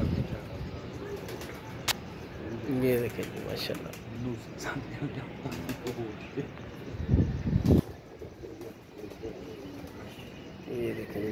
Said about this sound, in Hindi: दूसरा कबूतर बैठते हुए